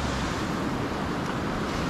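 Surf washing onto a long beach at Alassio, Italy, as a steady, continuous broadband rush of breaking water mixed with wind, with no voices.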